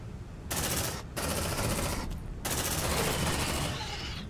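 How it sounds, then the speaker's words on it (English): Sentry gun firing in the video game Aliens: Dark Descent, a loud sustained burst of automatic fire in several long bursts separated by brief pauses, with no talk. "Sentry gun."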